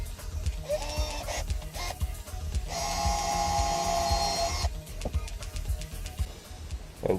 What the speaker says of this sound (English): So I will use my drill.